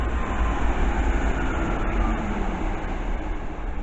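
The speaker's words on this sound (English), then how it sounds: "the next train to come through is a Chiltern 165" A Chiltern class 165 three-car diesel train rolls through Northwick Park station, a steady loud rumble of wheels and engine sustained throughout without any talk.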